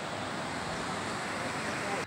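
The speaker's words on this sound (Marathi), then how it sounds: "हे बोंबाळे गावाच्या शेजारीच कॅनॉल वसंडून वाहतोय" Floodwater from an overflowing canal beside Bombale village rushes across a road into fields after heavy pre-monsoon rain, a steady broadband roar close by with wind buffeting the microphone.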